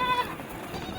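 Goats and sheep at a county abattoir bleat in one short nearby cry that fades into a low background murmur.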